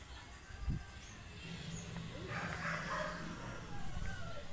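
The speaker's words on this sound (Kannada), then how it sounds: "ನಮ್ಮ ಮನೇಲಿ ಒಂದು ನಾಯಿ ಐತೆ ಗೈಸ್" A pet dog at home gives one short, quiet bark early on against faint indoor background noise, with nothing else prominent afterward.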